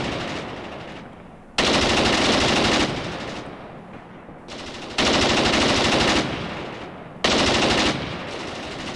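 An artillery salvo landing in the war game Graviteam Tactics Mius comes as three loud, sustained roaring bursts of rapid blasts, each lasting a second or more and fading into rumbling between volleys.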